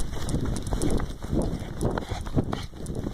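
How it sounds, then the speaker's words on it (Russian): A dog runs and chases someone outdoors near fences and a tractor, its footfalls a rapid patter of close thumps with wind and breathing over the top, no speech. "Блин, за мной гонится собака."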